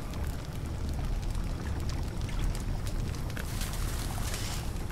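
Continuous gurgling water flow in the video game Puddle, a steady moderate wash with faint splashy patter, no voices.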